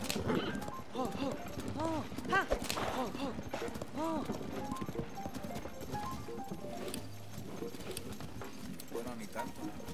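Horse hooves clip-clop in a steady rhythm along a dirt path in the video game Zelda: Tears of the Kingdom, set under continuous game music and someone talking over it.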